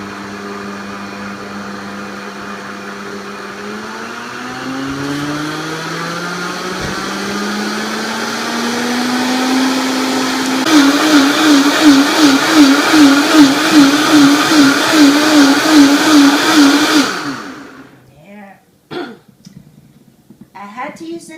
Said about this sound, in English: So what I do is I put it into the smoothie setting and I just turn it on.